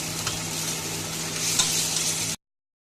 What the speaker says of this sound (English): We're going to stir it a little bit until it gets really blended well with the onion.